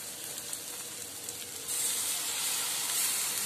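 Steady frying sizzle from chopped tomatoes dropped into a hot pan for tamata menthi kura, a Telugu tomato and fenugreek-leaf curry, rising slightly louder partway through and hissing continuously with no talk.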